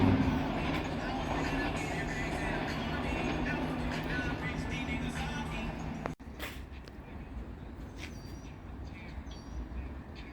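An Amtrak train passes through North Philadelphia station with a steady rumble that fades after a sharp break partway through, mixed with outdoor background sounds and some talk.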